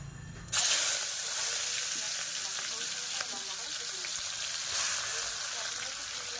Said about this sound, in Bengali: এবার এই গরম তেলের মধ্যে আমি দিয়ে দিচ্ছি পেঁয়াজ কুচি।